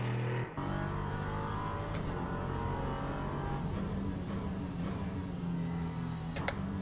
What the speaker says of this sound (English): It pushes off the line here. This is potentially a twin turbo.